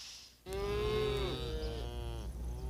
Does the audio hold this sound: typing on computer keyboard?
no